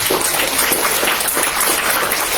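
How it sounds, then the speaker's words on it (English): A church audience at a young people's talent day gives a round of applause, a dense, steady wash of clapping heard up close. "Again, another round of applause para sa mga young people."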